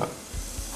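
Beef goes into a hot pan for a Thai spicy beef salad and sizzles loudly and close, a continuous frying hiss with a couple of soft stirring thumps.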